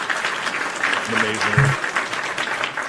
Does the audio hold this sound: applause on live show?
yes